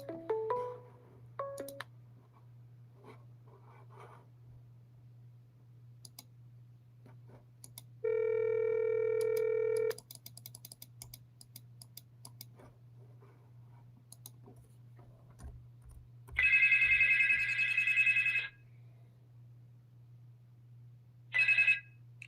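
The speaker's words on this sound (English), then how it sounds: "Now they're trying to call this number again." A phone at a radio show studio rings with an incoming call, with a few separate bursts of ringing and beeping between stretches of near silence, clicks and a low steady hum.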